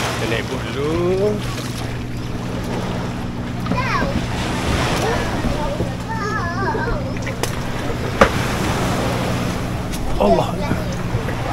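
A boat motors across the sea off Pulau Redang, Terengganu, its steady engine drone carried under rushing wind, splashing water and breaking waves, while people talk and call out nearby throughout.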